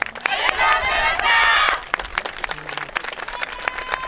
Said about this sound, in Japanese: たくさんの拍手ありがとうございました。